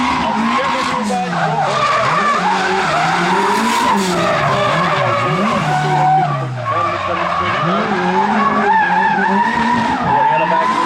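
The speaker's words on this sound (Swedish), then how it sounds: "där har vi alltså första bilen ut nu här för kvalet" Drift car at Färda Raceway in the STC Live Tour round 2 sliding out for a qualifying run, with loud sustained tire skidding and a revving engine rising and falling throughout, under continuous commentary.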